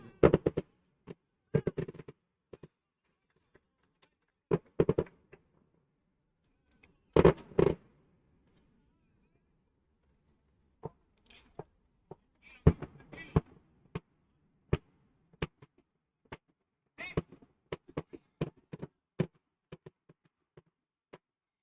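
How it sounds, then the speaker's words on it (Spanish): Fireworks going off nearby during a seven-a-side football match, a series of sharp irregular bangs and pops, some clustered, others isolated, with quieter gaps between bursts. "Eso que estáis escuchando es que tenemos unos fuegos artificiales aquí al lado"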